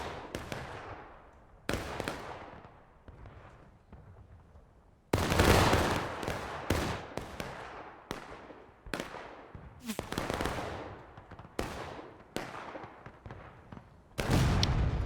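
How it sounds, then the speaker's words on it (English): Volleys of musket and rifle fire from troops in a Civil War battle game, sharp cracks in irregular bursts, some near and loud, others distant and thinner, with longer rolling salvos between. "most of these units are shooting at nothing"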